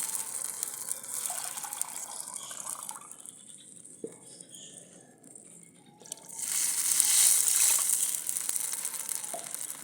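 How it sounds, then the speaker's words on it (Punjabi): Water is poured from a small metal pitcher into a cooking pot for rice. A soft trickle is followed by a louder gushing splash in the second half, close by and without talk. "ਅੱਧੀ ਗੜਵੀ ਹੋਰ ਪਾਵਾਂਗੇ ਡੇਢ ਗੜਵੀ ਪਾਣੀ ਦੀ ਪਾਵਾਂਗੇ"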